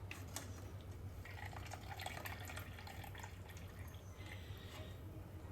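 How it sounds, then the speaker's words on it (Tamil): Soaked rice ada flakes for payasam are strained from their water, with faint trickling and dripping over a low background hum, quiet and continuous with no talking. "இப்போ இதை வடிகட்டி வச்சிடலாம்."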